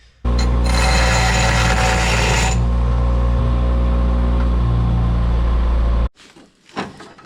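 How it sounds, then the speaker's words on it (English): Bench grinder cleaning up a metal seat mount bracket for a 1947 Plymouth P15 Special Deluxe, a loud sustained whine with a harsh burst of grinding contact early on, then cutting off abruptly and followed by brief clatter. "Now let's take it over to the grinder, clean this up a little bit."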